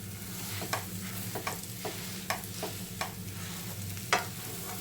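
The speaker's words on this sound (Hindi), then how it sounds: "अब इन्हें हम अच्छे से मिक्स करेंगे।" Mashed potato filling for bread pakora is mixed with spices in a pan over a slow flame, a soft continuous sizzle punctuated by a series of distinct spatula scrapes and knocks at an irregular pace.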